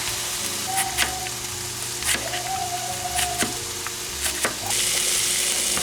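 Chopped red onion cooking on low heat in a pan for a pizza casserole, a steady close sizzle broken by regular scraping strokes of stirring, ending in a louder burst of frying.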